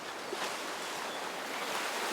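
Sea waves washing up on a sandy beach, a soft steady wash of surf and foam, faint and continuous without any voices.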